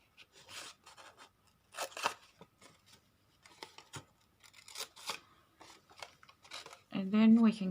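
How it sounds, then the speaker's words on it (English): Craft scissors snip through paper while making a junk journal page, a series of short, crisp cuts in irregular bursts at close range, ending in a louder rustling scrape. "put your scissors in and cut just about to each corner"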